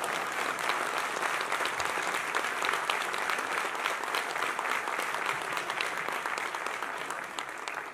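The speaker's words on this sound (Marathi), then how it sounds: "जोरदार टाळी पडते रे पार्लेकरांची" A large audience at a grand launch event in honour of a singer applauds loudly, a dense, sustained clapping roar that holds steady throughout.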